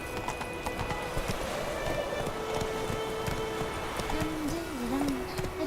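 Hooves of a galloping horse in The Witcher 3 game, a rapid continuous clip-clop rhythm with brief tonal calls and music-like tones underneath, fairly loud throughout.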